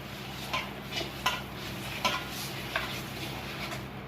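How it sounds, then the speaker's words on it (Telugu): Yogurt being mixed into chicken biryani masala in a pot, with a few distinct spoon clinks against the metal over a low steady sizzle, close up and without talk. "ఈ పెరుగు ఉండలు లేకుండా మంచిగా మిక్స్ చేసుకోవాలండి."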